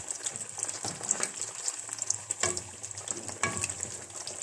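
Small banana fritters frying in hot oil in a home kitchen, a steady close crackling sizzle with occasional stirring clatters, with no voices.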